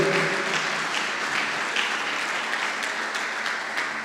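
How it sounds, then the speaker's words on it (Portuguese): A church congregation applauds together, a dense, steady wash of clapping that holds evenly for about four seconds with no talk over it. "Vamos dar uma salva de palmas para Ele?"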